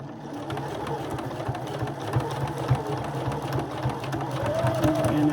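A sewing machine back tacking stitches on a pillow cover, a steady close mechanical whirr with rapid needle clatter running throughout.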